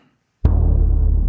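A single deep timpani hit lands with a heavy thump after a brief silence, its low boom ringing out steadily.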